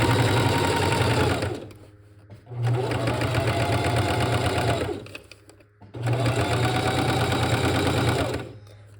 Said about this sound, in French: Je vais faire ma surpiqûre à quelques millimètres, peut-être 2 mm du bord ici.